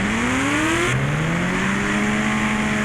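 A motorbike engine revs in a 3D bike-riding video game while riding through water on a beach, with a continuous loud drone whose pitch climbs steadily and shifts upward partway through, no voices.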